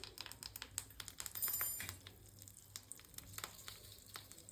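Mustard seeds, dried chilies and curry leaves crackle in hot oil, a dense run of quick sharp pops and ticks over a low sizzle, close and fairly quiet, with no talking.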